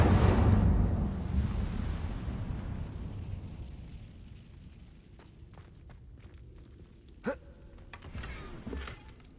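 The Incendio fire spell goes off in a Harry Potter school video game with a loud roaring burst of flame that fades over several seconds. Fainter clicks and a short sharp whoosh come after it.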